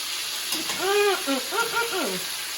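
Red snapper fries in hot oil in a pot with a steady, close sizzling hiss, while a voice rises and falls over it.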